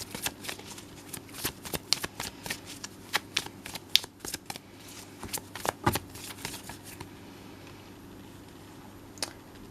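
Tarot cards being shuffled by hand, a quick series of crisp riffling flutters and soft slaps at close range, gradually thinning out toward the end.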